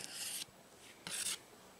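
A knife slicing a small sliver from a perch fillet, two short rasping strokes with a gap between, close and fairly quiet and otherwise silent.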